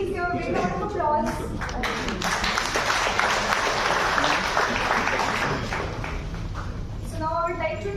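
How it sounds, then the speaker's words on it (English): An audience at a formal gathering on India–Africa relations bursts into loud, sustained applause. A speaking voice is heard briefly before the clapping swells and again as it dies away. "Please give a big round of applause"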